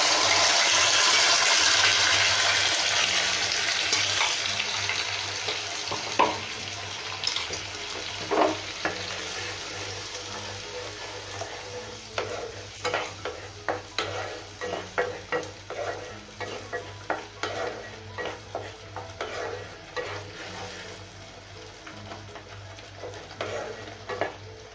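A paste of fried onion, tomato, ginger and garlic is poured into a hot pan. A loud hiss bursts out at first and slowly eases into a softer frying sizzle, broken by repeated clinks and scrapes of stirring.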